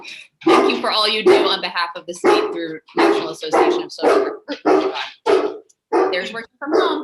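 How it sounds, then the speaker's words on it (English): A dog barks in the background of a home during remote testimony at a public health hearing, heard under a person speaking steadily in the foreground. "I apologize for the dog in the background."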